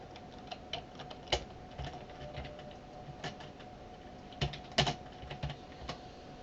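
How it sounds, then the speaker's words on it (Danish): Typing on a computer keyboard during a Minecraft game session, with light, irregular key clicks and a few sharper taps, fairly close and steady, with no talk over them. "Ej, Sabrina, kan du ikke skrive?"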